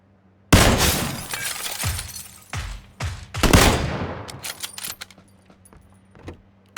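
A UMP submachine gun fires in PUBG at a buggy on the road north of Severny, several loud sharp bursts with ringing, echoing tails, followed by fainter scattered shots and clatter.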